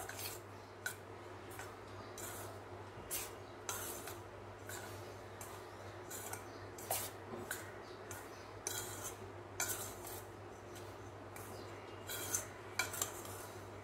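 A spoon stirs powdered sugar into a besan ladoo mixture of roasted gram flour, giving soft scraping and occasional light clinks against the bowl, repeated steadily under a low constant hum with no talking.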